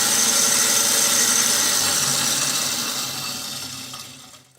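A 1x30 leather honing belt grinder runs with a steady, loud motor hum and belt whir, holding constant before winding down and fading out at the end.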